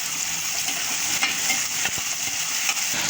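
Chopped onion and tomato fry in a pan for a traditional Marathi dal vang, a steady close hiss of sizzling oil with faint stirring scrapes throughout.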